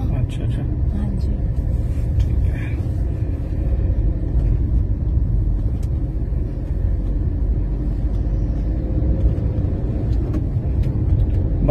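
A car rolls along the road, heard from inside as a steady low rumble that never lets up, with a faint voice now and then beneath it.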